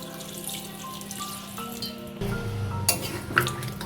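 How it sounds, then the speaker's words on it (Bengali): Water poured into a potol and soybean curry in a pan, a gentle steady pour that strengthens partway through with small splashes and a faint sizzle beneath. "এবার পরিমাণ মতন জল দিয়ে দিচ্ছি।"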